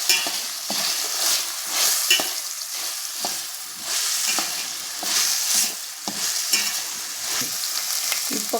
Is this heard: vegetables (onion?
yes